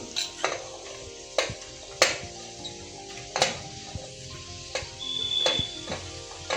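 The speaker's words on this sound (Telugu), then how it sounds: "ఫస్ట్ అయితే ఆనియన్స్ వేసానండి ఆనియన్స్ కొంచెం కదుపుకుంటున్నాను కదిపిన తర్వాత నేను మిగతా వెజిటబుల్స్ అన్నీ కూడా వేసేస్తున్నాను" Onions and mixed vegetables fried in a pan for a coconut milk pulao, with a utensil scraping and clanking against the pan in periodic strokes over a steady soft sizzle.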